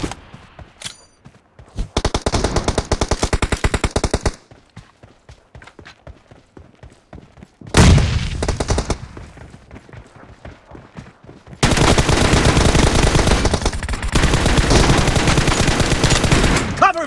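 Gunfire crackles in a PUBG Mobile team deathmatch: a few scattered single shots, then long dense bursts of automatic fire that come in separate volleys and end in a sustained loud stretch.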